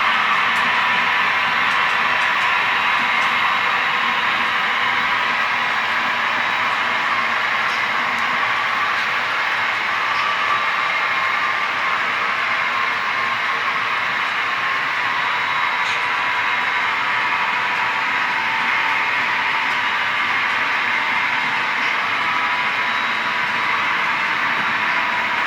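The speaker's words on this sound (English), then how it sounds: "there's 2 GP-20s and a GP-30. Right behind the locomotives are 3 whale belly cement hoppers." Freight train of two GP-20 and one GP-30 diesel locomotives with whale belly cement hoppers rolling past in Iowa, a loud continuous broadband roar of wheels and cars, steady and close throughout.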